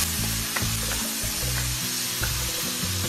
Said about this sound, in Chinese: 热锅烧油， 加入葱姜蒜